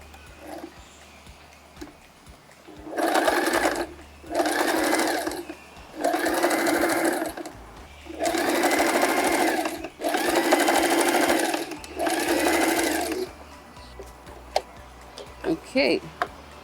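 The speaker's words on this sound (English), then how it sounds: "we're going to do another straight stitch" A sewing machine stitches a straight seam on a bag strap in six loud, steady bursts of whirring motor and needle chatter, separated by short pauses, with quiet handling noises between runs.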